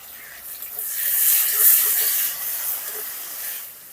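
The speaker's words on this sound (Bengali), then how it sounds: "পেঁয়াজ কুচি পেঁয়াজটা একটু লাল করে ভেজে নেব টমেটো কুচিও আমি একসঙ্গে দিয়ে দিচ্ছি" Chopped onion and tomato fry together in hot oil with a steady, fairly loud hiss that swells slightly in the middle and then settles, with no voices.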